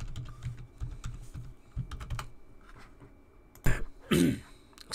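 Password keys tapped on a computer keyboard in quick bursts of clicks, close and fairly quiet, with a brief throat-clear and cough near the end.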